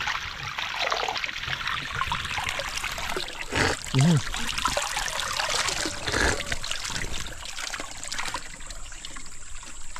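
Spring water trickles and splashes steadily over stones, a broad hissing flow, with a voice speaking briefly near the middle.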